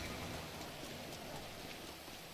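Steady rainfall in GTA V, a dense hiss of drops on surfaces that holds constant and fairly soft throughout, with no voices.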